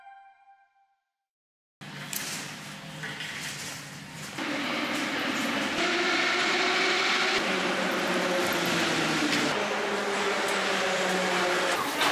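Moscow subway train rumbling steadily on the tracks, with a low hum and shifting mechanical whine that grows louder midway and stays constant; no talking.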